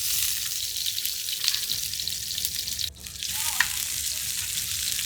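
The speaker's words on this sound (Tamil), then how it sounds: "எண்ணெய் விட்டுட்டு கொழுப்பில் வதக்குவோம்" Mutton fat sautés in hot oil in a pan, giving a dense, constant sizzle and crackle that is close and loud, with a brief stirring scrape partway through.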